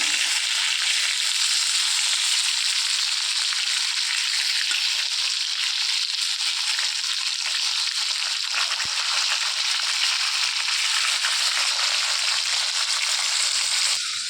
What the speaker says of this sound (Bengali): মাছগুলো এবার ভেজে নেব ভালো করে। মাছটা এক পিস ভেজে ভাজা হয়ে গিয়েছে, এবার উল্টে দেবো।